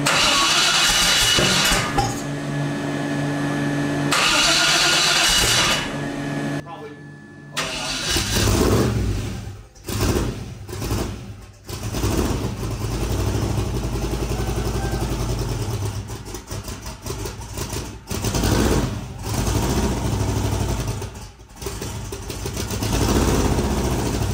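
An 1800hp twin-turbo 427ci LS engine cranks, catches and fires for the first time, then settles into a loud, lumpy idle with repeated revving surges, heard close and alone.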